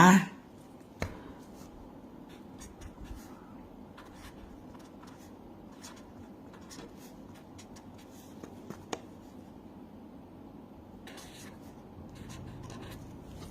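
A pen writes on paper, faint scratchy strokes and light taps close by, quiet and intermittent against a soft room background with some talking.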